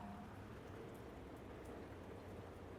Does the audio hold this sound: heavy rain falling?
yes